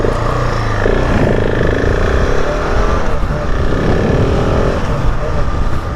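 A 2021 KTM 690 Enduro R motorcycle engine roars loudly and close while being ridden, its revs rising and falling in sweeping pitch over steady rushing wind noise.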